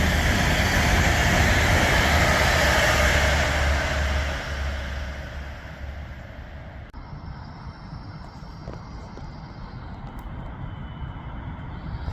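Class 390 unit 390-153 rushes through a station on the West Coast Main Line at Rugby, a loud broad roar that fades after a few seconds into a lower steady rumble.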